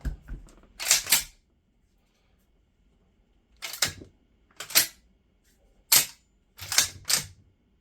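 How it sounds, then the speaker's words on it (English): A Turkish 12 gauge shotgun is hand-cycled with dummy rounds, producing sharp metallic clacks of the action in separate bursts and pairs with quiet gaps between, close and crisp. "So it doesn't like to cycle the dummy rounds."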